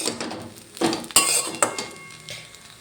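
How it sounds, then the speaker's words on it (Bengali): A spatula stirs spiced katla fish curry with kohlrabi in a pan, giving a few close metallic clinks and scrapes against the pan amid a soft sizzle, with no talking. "এটা ছড়ি দিয়ে একটু নেড়ে চেড়ে ভালো করে মাখিয়ে নেব"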